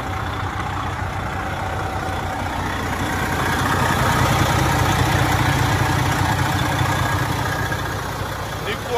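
A 2006 Freightliner Columbia 120 truck engine idles steadily with a low rumbling drone, swelling slightly midway, with faint background noise throughout.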